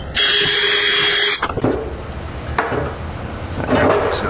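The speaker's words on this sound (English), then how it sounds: "we'll just run a little flappy wheel up inside here, run it across here, make sure everything's clean" A flap wheel on a power tool grinds inside the yoke of a GM nylon-injection U-joint, a loud, steady whirring burst of about a second and a half that stops abruptly, followed by scattered metallic clanks and handling noise.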